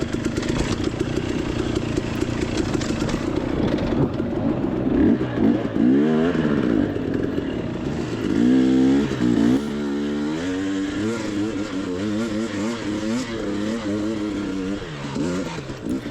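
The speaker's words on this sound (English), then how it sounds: "you can kind of hear the chop in my throttle just simply because my suspension wasn't soaking any of this up" Enduro dirt bike on rough hard-enduro race terrain with overly stiff suspension, engine loud and close, throttle chopping on and off in uneven bursts of revving and dropping pitch.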